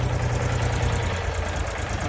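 A low, steady Lovol 244 tractor engine chugging at idle, close and constant, with a faint rhythmic knock.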